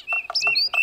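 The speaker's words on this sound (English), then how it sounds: "And when I wake up, this is what I'll hear. The Dawn Chorus." Dawn chorus birdsong played as a phone alarm sound, with a woodpecker included: four short, bright chirping calls in quick succession with whistled tones between them, close and clear, with no talking.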